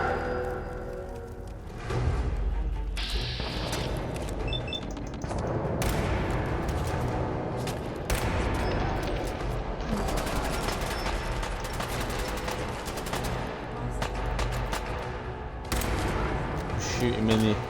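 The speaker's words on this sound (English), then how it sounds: "I was trying to shoot him in the back and end up shooting him in the ass." Dense gunfire from a firefight in the Fallout video game, with bursts of shots and booms running almost continuously over a loud mix of game music and effects, and a voice talking at times.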